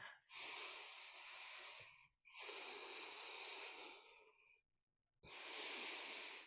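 Deep, close breathing during a heart-energy meditation exercise: three long, loud airy breaths separated by short pauses, with no speech.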